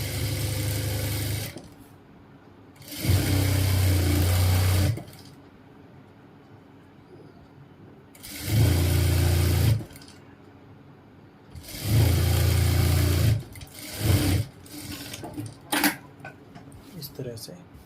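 A sewing machine stitches trousers in several bursts of motor whirring, each lasting a couple of seconds, loud and close with quiet pauses between runs and some handling noise at the end.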